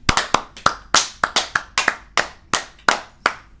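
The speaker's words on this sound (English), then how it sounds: "Ladies and gentlemen, put your hands together for Sarah Aydt." Sparse, crisp hand claps from a small audience welcome a guest host, about a dozen sharp claps in an uneven rhythm, close and without any voices.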